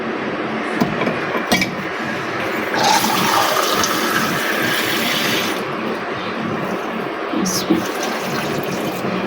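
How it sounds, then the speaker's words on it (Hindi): Water pours steadily into a cooking pot of beef biryani, a continuous gushing splash with a faint clink, under a person talking. "अब हम इसमें पानी डालेंगे।"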